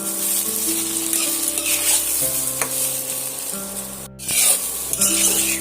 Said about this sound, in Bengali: এইভাবে আমি কিছুক্ষণ ধরে কষিয়ে নেবো